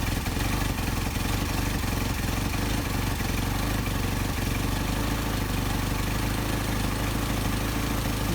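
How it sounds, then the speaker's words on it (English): A Mercedes 190SL engine idles steadily and close up while its Solex carburetors are adjusted, producing a continuous loud rumble with faint clattering throughout and no talking. "And you'll see the difference that the idle makes when these are adjusted in and out."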